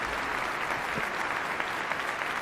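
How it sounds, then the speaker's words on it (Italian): Steady, dense applause from a concert audience after a performance, a continuous wash of many hands clapping at an even level with no voices standing out. "Io farei un altro applauso"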